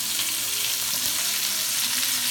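Red and white onions sauté in a pot for a pot roast, giving a steady, close, even sizzle with faint stirring underneath and no speech.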